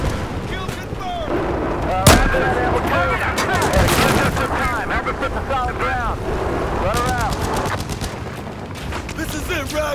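Battlefield 4 battle ambience with artillery and gunfire: a sharp blast near two seconds, then a dense stretch of shots and rumbling booms, with overlapping chatter and wind noise throughout.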